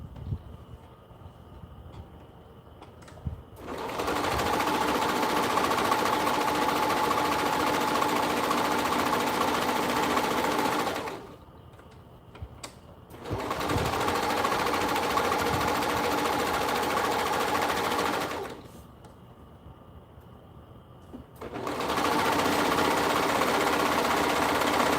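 A loud sewing machine stitching nursing pads runs in three long, steady whirring bursts, each lasting several seconds, with short quiet pauses between them, close and alone.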